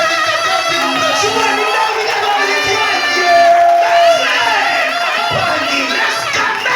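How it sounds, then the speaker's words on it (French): A church congregation acclaiming its pastor during a service: a loud crowd of voices cheering and shouting together in swelling waves, with children's shouts mixed in. "Acclamons pour notre pasteur Life. Acclamons pour tous les prédicateurs qui nous prêchent."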